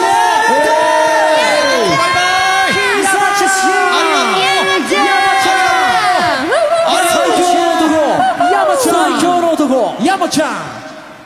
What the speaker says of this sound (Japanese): 山田久さんにもう一度大きな拍手を。